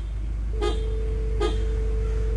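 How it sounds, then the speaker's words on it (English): Car horn honking in two short blasts followed by a long sustained honk, loud and close over a low engine and traffic rumble. "Honk the horn!"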